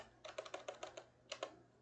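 A short run of crisp keystrokes on a computer keyboard, about nine evenly spaced clicks with a brief pause before the last few, heard close and quiet.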